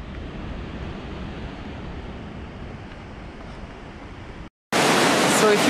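Victoria Falls waterfall with very high water, a steady broad roar of rushing water that holds constant, cuts out briefly, then returns louder and brighter near the end.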